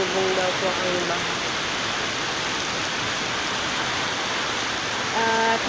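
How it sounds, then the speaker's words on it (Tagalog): Heavy typhoon rain falls in a steady, dense hiss that fills the whole stretch, with a voice speaking faintly beneath the downpour at the start and the end. "At hanggang ngayon po, hindi pa rin po natigil ang ulan."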